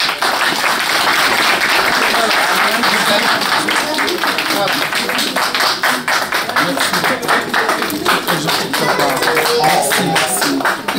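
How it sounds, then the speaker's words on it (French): Guests at an engagement party clap in a lively, sustained round of applause, with sharp individual claps standing out and voices talking over it. "On applaudit ça."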